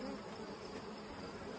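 Bees drone steadily around a beehive brood box during a dry, grassless spring nectar flow, a dense, continuous buzz of many insects close by with no voices.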